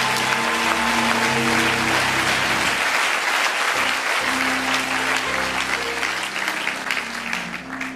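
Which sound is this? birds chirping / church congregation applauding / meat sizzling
church congregation applauding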